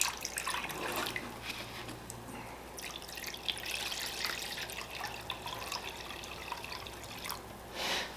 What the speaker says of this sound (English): fill it up the rest of the way so the whole thing's covered with vinegar